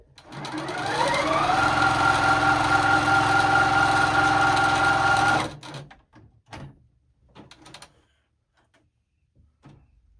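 A new sewing machine with a 13-inch throat, needle down, stitches steadily with a loud, even mechanical whir for about five seconds, then stops, followed by a few soft handling clicks and knocks.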